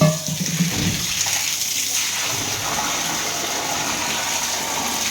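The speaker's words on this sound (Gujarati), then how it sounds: "જો અમારા બોરિંગમાં કેવું મસ્ત પાણી આવે છે" Water gushes steadily from a borewell motor pump outlet, a loud continuous rushing splash that starts with a burst and holds even throughout, with no talking.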